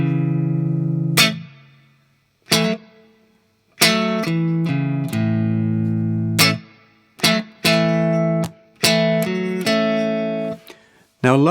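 Guitar playing a slowed-down soul groove from simple chords, with short staccato chord stabs and single notes separated by gaps of silence, clear and close with no talking.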